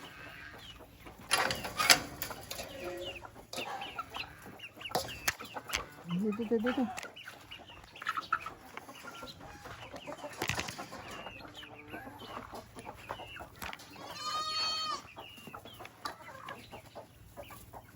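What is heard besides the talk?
chickens clucking while being fed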